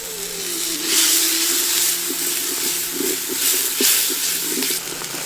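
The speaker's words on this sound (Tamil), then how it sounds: "இப்ப கொஞ்சம் தண்ணி ஊத்தி நல்லா கொதிக்க வச்சிடலாம்." Water poured into a pan of cooking masala for nalli bone fry hisses and bubbles, a close sizzling wash with small popping bursts throughout, no talking.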